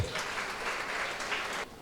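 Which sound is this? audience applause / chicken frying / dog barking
audience applause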